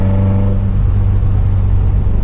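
A Volkswagen Mk1 Golf with a 2.2-litre ABF engine on individual throttles revs hard, its loud, steady intake roar droning continuously and close up.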